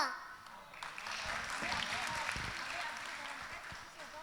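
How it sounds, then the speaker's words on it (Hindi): Audience applause at a Digambar Jain temple religious gathering, a sustained spell of clapping after a brief pause, moderately distant and even, with some voices around it. "जोरदार तालियां"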